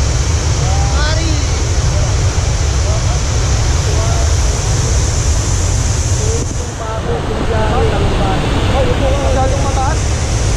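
Talon Pari Falls pours in a constant, loud, close rush of water that masks most other sound, with people speaking faintly over the continuous roar.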